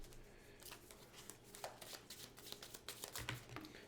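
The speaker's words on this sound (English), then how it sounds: "I'll have a good shuffle real quick." Cards being shuffled for the Clank! Catacombs board game, a run of quick papery riffles and flicks close by, fairly quiet against a faint room hum.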